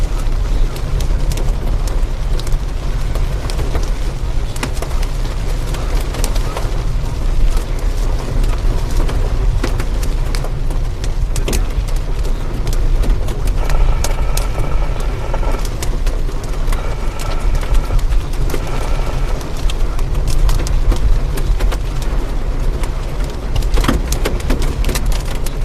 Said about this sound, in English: Got small hail. It always sounds bigger than it is.